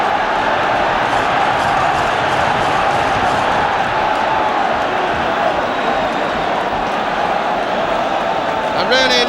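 A football crowd at a West Ham versus Manchester United match cheers Bobby Gould's goal, a loud, continuous roar of many voices that holds steady, with a sharp whistle near the end.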